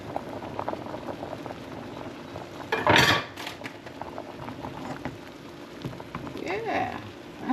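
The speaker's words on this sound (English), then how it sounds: "It's just bubbling, bubbling." A pan of sauce bubbles and simmers steadily, with a soft crackle and a brief louder clatter partway through.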